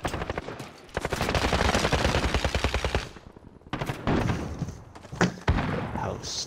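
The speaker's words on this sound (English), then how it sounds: "Oh, that man had a shotgun, the R9." Gunfire, including an R9 shotgun, in a Modern Warfare Search and Destroy match: dense, close bursts of rapid shots with sharp thuds, a brief pause, then more scattered blasts.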